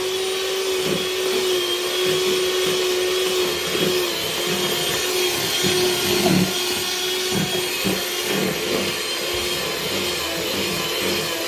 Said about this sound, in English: So I'm going to mix my ingredients together